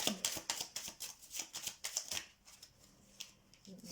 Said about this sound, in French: Je vais prendre 3 cartes de celle-là, de ce jeu-là, hein, les jeux du tarot normal.